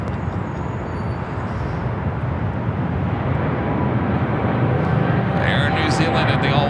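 An Air New Zealand jet in all-white livery rolls down runway 25 Right at LAX, making a continuous broadband roar heard from a distance that builds slightly toward the end.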